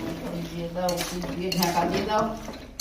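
Chicken kosha is stirred in a pot while it fries dry, with metal ladle clanks and scrapes against the pot over a faint sizzle, close and fairly loud.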